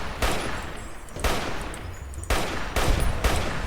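The This Machine rifle firing in the video game Fallout New Vegas: loud, sharp shots in quick bursts and single cracks, with almost no talk.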